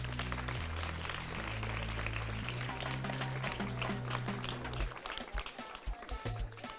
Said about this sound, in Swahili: Piga makofi kwa ajili yenu